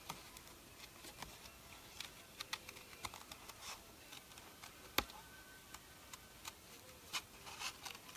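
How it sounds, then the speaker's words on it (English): Small scissors snip a paper fish out for a handmade card, giving soft, close, irregular ticking cuts at a quiet level with no talking. "So I'm just going to cut this little guy out real quick."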